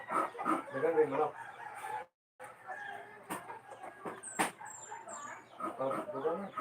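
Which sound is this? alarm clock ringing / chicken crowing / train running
chicken crowing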